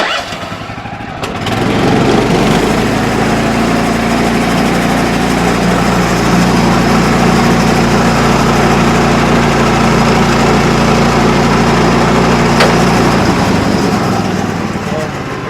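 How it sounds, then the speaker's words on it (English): A sawmill engine drones loud and steady while cutting a house dovetail piece in timber, a constant close roar that starts abruptly and holds for the whole stretch. "I've got everything lined up on my sawmill to make our dovetail piece"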